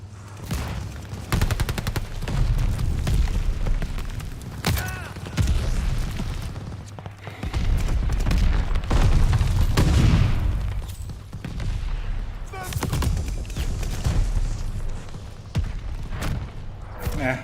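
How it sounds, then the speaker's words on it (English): Call of Duty Vanguard match with a mortar barrage and gunfire: repeated booming blasts and bursts of rapid gunshots, loud and layered over one another, with a voice talking under the din. "Allies calling a mortar barrage."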